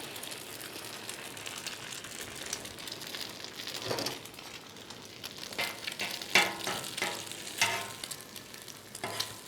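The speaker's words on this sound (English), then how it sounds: "Now this egg needs to fry at about 300 degrees" An egg fries in a hot pan alongside Spam, giving a steady close sizzle with occasional sharper crackles and stirring scrapes throughout.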